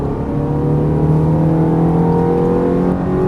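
A Ferrari F430 accelerates hard on a race track, its engine a loud, close, rising roar with strong harmonic whine building steadily throughout, no talk heard.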